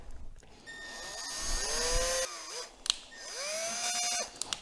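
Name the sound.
running a thread tap through engine bolt holes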